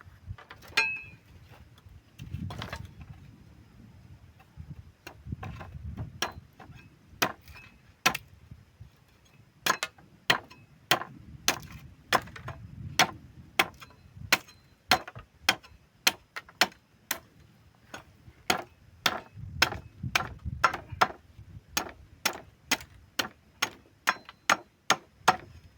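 Sharpened wooden stakes are pounded into the ground with a series of sharp, evenly spaced knocks, sometimes in quick pairs, over about twenty-five seconds, with a low outdoor rumble and occasional faint voices in the background.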